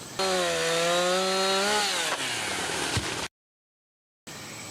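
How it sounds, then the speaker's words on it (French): A low-powered chainsaw engine revs loudly up close, its pitch dropping as it winds down, then cuts out briefly before restarting. "une tronçonneuse bien affûtée, surtout celle-là, comme elle n'a pas énormément de puissance"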